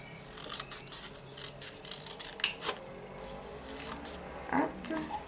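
Scissors snip through paper while a craft box is being made, giving a few quiet, close cuts and rustles spread across a soft background.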